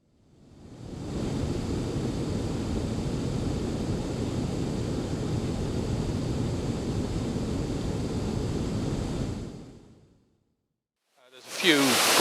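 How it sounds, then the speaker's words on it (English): A clean, crescent-shaped waterfall in a Brecon Beacons valley in Wales roars as a steady broadband rush that fades in, holds for several seconds, then fades out, followed by a brief burst of talk. "a nice, clean waterfall"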